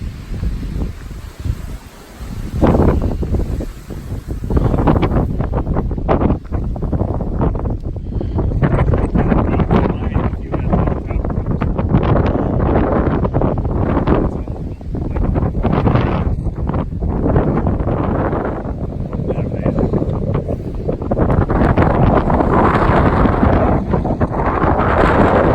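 Strong wind at Wind Rock on the Appalachian Trail, gusty roaring buffets hitting the microphone in heavy bursts, broken by a brief lull near the start.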